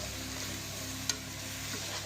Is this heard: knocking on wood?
no